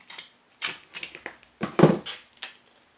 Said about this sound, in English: Then I'm going to take my sharp scissors,